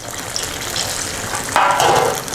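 Banana fritters deep fry in plenty of oil, giving a steady bubbling sizzle that swells into a louder, brighter crackle partway through, close and without talk.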